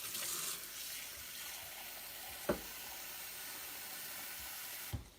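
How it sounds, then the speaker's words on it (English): Warm water runs steadily from a kitchen tap, a continuous hiss-like flow heard close by with no talk, marked by two brief clunks or splashes partway through and near the end. "you can just get water that is running from your tap that is quite warm to touch"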